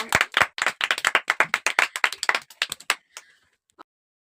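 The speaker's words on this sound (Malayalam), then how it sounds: "ഉത്തരത്തിന് ഇവൻക്കൊരു ക്ലാപ്പ് കൊടുക്കാം" Hands clapping for a correct quiz answer, a quick run of about twenty close, sharp claps that slow and fade out over four seconds.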